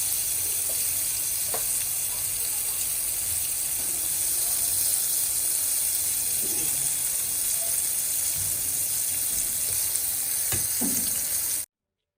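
Aubergine fritters (begun bora) frying in hot oil, a dense continuous sizzle heard close with occasional stirring clinks and bubbling pops, no talk.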